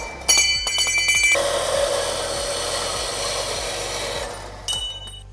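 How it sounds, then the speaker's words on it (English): A hacksaw cuts through a steel bicycle frame tube in a workshop, its rapid back-and-forth rasping strokes continuous and fairly loud, beginning and ending with brief clanks. "And this hacksaw cut is gonna be right there."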